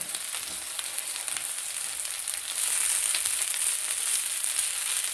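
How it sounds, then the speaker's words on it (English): Hash browns frying in a pan for a breakfast plate, a steady bright sizzle with crackling that swells louder partway through as they are flipped, close and alone with no talk. "You want to give them one last flip so that everybody has browned"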